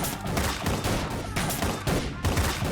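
Dense, rapid gunfire from a movie trailer for the Mankatha re-release, with bursts of shots crowding together at a steady loud level and no gaps of quiet.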